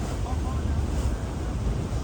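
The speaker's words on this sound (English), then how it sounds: "Cruising down the Detroit River" A boat cruises down the Detroit River after crossing Lake St. Clair, a steady broadband rumble of engine, water and wind buffeting the microphone, continuous and fairly loud throughout.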